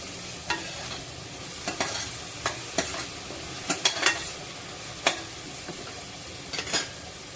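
Curry leaves and ginger-garlic paste frying in hot oil for a traditional Agri chavali, brinjal and potato curry, a steady soft sizzle broken by a dozen sharp spoon clicks and scrapes against the pan, close by with no talking.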